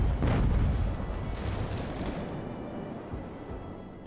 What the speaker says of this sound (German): Das ist die Kanonenschüsse von da hinten